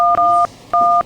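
Keypad tones as a mobile phone number is dialed, three or four clean electronic beeps in quick succession, loud and close with short gaps between.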